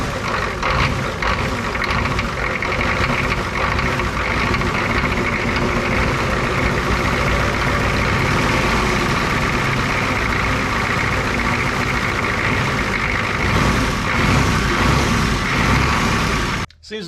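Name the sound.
Ford F350 diesel engine with twin turbos idling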